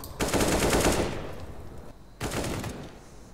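Two close, loud bursts of automatic gunfire in CS:GO, a long rapid volley followed by a short pause and a second shorter burst.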